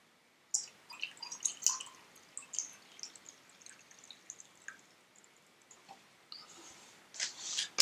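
Hot water is poured in a thin trickle that drips and splashes in faint, irregular clicks, quiet and close, with no voices.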